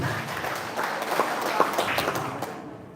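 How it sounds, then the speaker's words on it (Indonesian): Applause in a hall at a church choir technical meeting for a Pesparawi women's choir competition, a dense patter of clapping from the crowd that holds steady, then thins and fades away at the end. "Tepuk tangan yang meriah teman kita."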